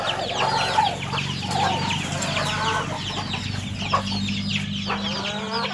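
A nearly two-year-old Burmese rooster of the Fah Lan line clucks repeatedly at close range, short choppy calls over a steady low background hum with other fowl around.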